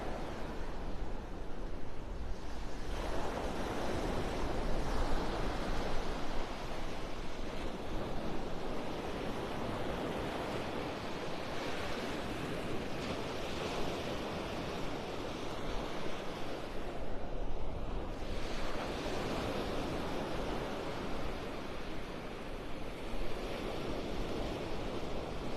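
Gulf surf breaks at North Naples beach, Florida, a continuous broad roar of churned-up waves with rising and falling swells, mixed with wind buffeting the microphone and no voices.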